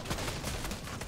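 Gunfire in the video game Fortnite comes as a dense, steady stream of rapid shots that fills the whole moment at moderate loudness.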